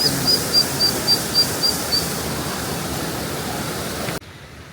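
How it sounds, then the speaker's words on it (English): A steady broadband roar of a waterfall near Seydisfjordur, Iceland, is heard from a short distance with a few faint high chirps early on, then cuts abruptly to quieter ambience near the end. "So you can still hear the waterfall behind me"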